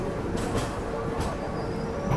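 A Rajdhani Express pulling into Secunderabad railway station, heard as a steady rumble of rail cars with faint wheel and brake hiss, close and continuous over station ambience.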